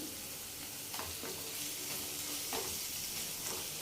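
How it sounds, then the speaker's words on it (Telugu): Onion paste with ginger and garlic frying in a pan for an Andhra dry prawn and egg curry, a steady close sizzle broken by a few scraping stirs of a spoon. "ఉల్లిపాయ పేస్టు, అల్లం వెల్లుల్లి చక్కగా వేగిపోయాయి."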